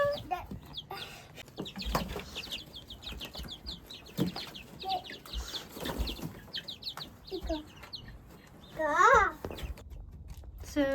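Chickens and chicks cluck and chirp in a newly built backyard coop, with frequent repeated calls throughout and one louder squawk near the end, while a child babbles and an adult speaks nearby.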